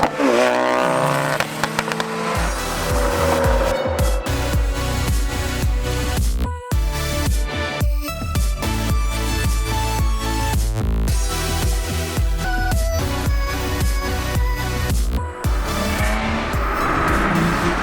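A 2018 Subaru STI and a tuned E85 Ford Focus RS rev and roar up close with tires squealing, pitch rising and falling as they accelerate and shift, loud and continuous throughout.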